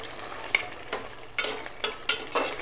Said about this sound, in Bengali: বারবার নেড়ে চেড়ে দিতে হবে একটু, যাতে নিচে না লাগে, সুন্দরভাবে কষায় নিতে হবে